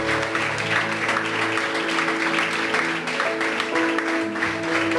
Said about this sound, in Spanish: Y usted le va a dar su mejor aplauso a Dios.